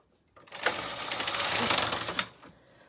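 A chunky/bulky or mid gauge knitting machine carriage with ribber is pushed across the needle bed in one loud, close clattering pass of rapid mechanical clicks, ending with a sharp knock before quiet.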